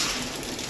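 Steady soft hiss of light rain falling, a continuous even patter with no other sounds.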